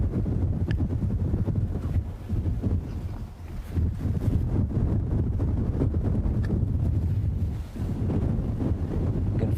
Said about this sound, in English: Feel that wind. Well, you can't feel it, of course, but you can hear it, I'm sure, starting to blow strongly.